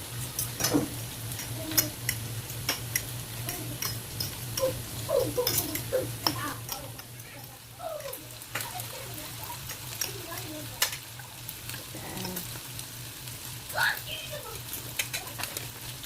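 Samyang Buldak spicy Korean noodles cooking with their sauce, a steady low hum and soft stirring scrapes with light sizzle, scattered clicks and faint bird chirps in the background.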